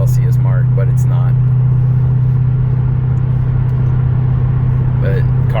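A car with a 1UZ-FE engine and a temperature sensor issue runs steadily, a loud continuous low drone and rumble from inside the cabin, with someone talking over it.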